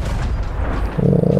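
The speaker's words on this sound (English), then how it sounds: "That was just a cannon." A cannon booms in the pirate video game Sea of Thieves, a loud low blast followed by a sustained rumbling roar, with no talking.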